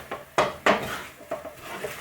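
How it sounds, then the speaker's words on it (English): Egg fried rice stirred in a pan, a few distinct scraping and clattering strokes of a utensil against the pan, irregular and close, with no talk. "And then just give it a stir around."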